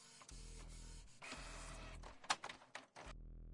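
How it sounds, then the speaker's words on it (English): Printer in a video game whirring and clunking as it feeds and prints, a low mechanical drone with rhythmic rattling passes and a sharp click near the end before stopping, moderately quiet. "It's a printer. Looks like a printer there."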